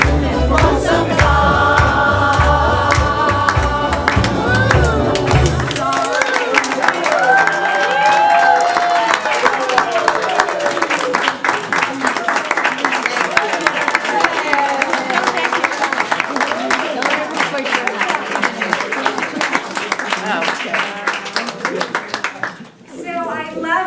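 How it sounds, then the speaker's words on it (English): Audience applause and cheering greet the cast after a Guys and Dolls performance at a Jewish Home, sustained clapping that starts over the show's final music and continues steadily. "one more big round of applause for our amazing cast"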